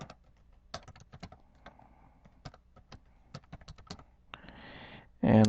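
Password keys tapped on a computer keyboard during Windows Server 2003 domain controller setup, a run of separate close clicks in uneven rhythm, ending with a louder burst of noise.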